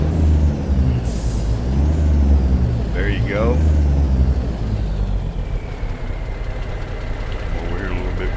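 A Peterbilt 389 truck engine in American Truck Simulator rumbles low and steady, swelling slightly as it revs, with a brief hiss partway through and someone talking over it.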